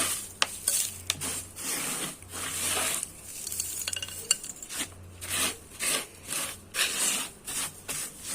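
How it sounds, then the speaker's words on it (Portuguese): Potting substrate scooped and poured around a cactus in a pot, repeated gritty rustling and scraping pours in bursts, close and fairly loud, with no voices. "Vou colocar uma pequena camada de substrato"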